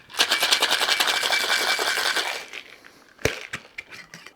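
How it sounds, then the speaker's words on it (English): Ice rattles rapidly and steadily in a cocktail shaker for about two and a half seconds as a cosmopolitan-style drink with marmalade is shaken, followed by a few separate clunks and knocks. "let's shake that over ice and see what we've got."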